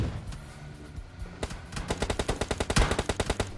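Gunfire in the mobile battle royale game PUBG Lite: after a dull rumbling lead-in, a loud sudden shot opens a rapid automatic burst of evenly spaced rounds that keeps firing steadily to the end.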